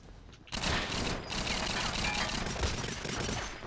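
Rapid automatic gunfire from the Wii version of GoldenEye 007 during an online match, a dense, loud burst of shots that continues almost without pause for several seconds.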